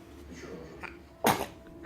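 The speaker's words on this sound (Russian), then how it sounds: "А что мы чихаем 3 раза?" A single sharp sneeze bursts out near the end amid quiet indoor room noise, preceded by soft faint sounds; no clear speech during it.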